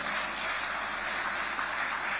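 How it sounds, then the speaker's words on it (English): Steady audience applause at a live morning event, a dense even wash of many hands clapping with no voices over it, continuing throughout at moderate volume. "Can we hear the applause for ENL Consortium?"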